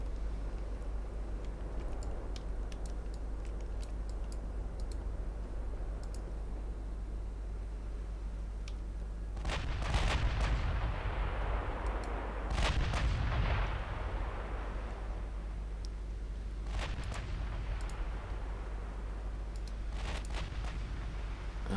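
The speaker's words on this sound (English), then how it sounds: "It seems its ammo has exploded." Heavy naval gunfire and an ammunition explosion aboard a warship in the video game Ultimate Admiral Dreadnoughts, several deep booming blasts with decaying rumble over a constant low engine drone.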